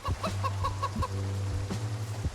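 Chickens kept in a hutch in a zombie survival game cluck in quick, close bursts, a steady run of short clucks over a constant low hum, with no talking.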